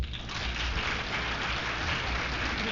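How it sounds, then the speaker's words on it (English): Audience applause in a hall at UCLA in 1971, a dense wash of clapping that swells quickly and holds fairly loud throughout. "would everybody in the audience who has read the famous book by J.D. Salinger, Catcher in the Rye,"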